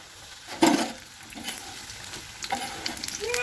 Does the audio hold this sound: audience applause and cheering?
no